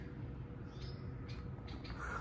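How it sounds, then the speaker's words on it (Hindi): Small birds chirp faintly among a few trees outside a house in Dunyapur, Pakistan, brief high calls scattered over a steady low background hum. "परिंदों के चहचहाने की आवाज़ आ रही है।"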